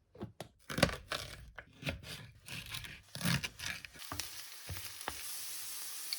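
Oil sizzling and popping in a pan with tiny daikon, carrot, endive, green onion and leftover rice, broken by stirring scrapes and clicks up close; the frying hiss keeps going steadily toward the end.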